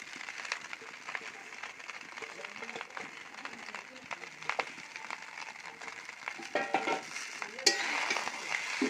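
Vegetables fry in a pan for fried rice with a soft, continuous sizzle and occasional stirring scrapes, and the clatter grows louder near the end while a voice talks quietly over it.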